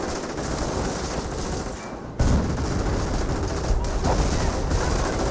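Dense, continuous gunfire and explosions from a World War II strategy game, Company of Heroes, roar loudly with rifle and machine-gun bursts and a heavy blast partway through. No one speaks over the noise.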